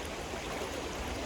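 Steady rush of the Ramganga River's cold water while people wade across it, a faint, even flowing wash with no voices.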